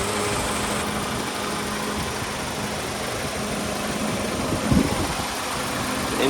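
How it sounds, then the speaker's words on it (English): A 1997 Honda StepWgn engine idles smoothly and steadily at close range, a constant even hum with no talk over it. "Here's the engine running like a sewing machine."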